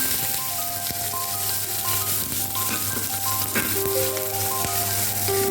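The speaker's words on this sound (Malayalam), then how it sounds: "മൂത്ത് വന്നിട്ട് സവോള ഇട്ടു." Sliced onions frying in hot oil with cinnamon, cardamom and cumin for a squid biryani, a dense continuous sizzle with faint clinks of a utensil, close and fairly loud.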